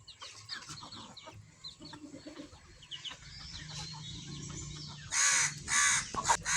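Free-range native chickens in a backyard coop, scattered clucks and soft calls at a moderate distance, followed by two loud, harsh squawking bursts near the end.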